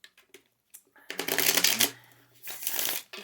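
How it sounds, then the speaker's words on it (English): A deck of tarot cards is shuffled in two brisk riffling bursts after a few light taps, close and crisp with no talking. "I'm going to go ahead and shuffle the cards."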